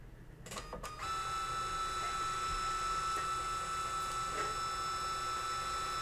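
A Brother P-Touch thermal label printer runs off labels, starting with a few clicks before a steady, even mechanical whir settles in and continues at low level with no talking.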